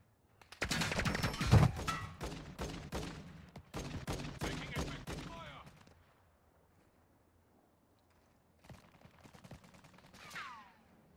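Bursts of automatic gunfire in the Call of Duty: Modern Warfare II Warzone 2.0 battle royale, loud rapid volleys in two long runs, then a lull and a fainter later burst with a whizzing tail.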